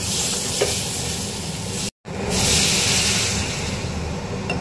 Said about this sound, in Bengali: আমার কষানো হয়ে গেছে, এবারে আমি জল ঢেলে দেবো।